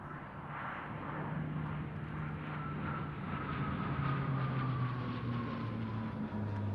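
A C-27J Spartan twin-turboprop transport roars steadily overhead during an aerobatic solo display at an airshow, its loud engine drone slowly falling in pitch as the aircraft passes.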